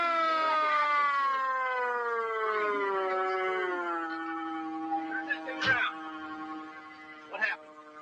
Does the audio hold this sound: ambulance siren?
yes